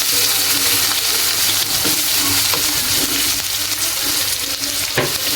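Sliced onion fries lightly in oil in a pan, giving a loud, steady sizzle and crackle with occasional stirring scrapes throughout.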